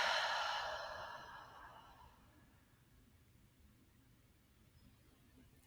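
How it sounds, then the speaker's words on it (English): A slow, steady exhale through the nose during a guided meditation, a soft breathy airflow that starts moderately loud and gradually fades over about two seconds into quiet room tone. "and exhale."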